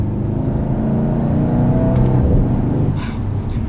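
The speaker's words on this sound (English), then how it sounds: "That exhaust is insane." A 2019 Mercedes-AMG C63 S on the move gives a loud, steady exhaust drone from close by, with rumbling texture and faint crackles, then a brief dip as it shifts.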